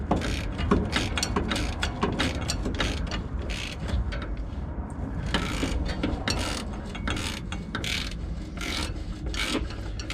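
A ratchet with a swivel works bolts loose during engine removal on a 1977 Ford F-250 Ranger XLT Super Cab, giving rapid, continuous clicking and metallic scraping close up; no talking.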